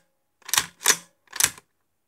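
Beretta 1301 shotgun bolt worked rapidly, giving three sharp, close metallic clacks in quick succession from the action and cartridge latch, with no talking.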